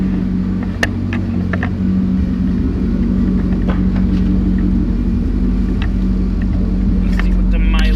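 A Chevrolet LS2 long block engine runs at a steady idle with a constant, loud low drone and rumble close by, unchanging for the whole stretch, with a brief faint chirp near the end.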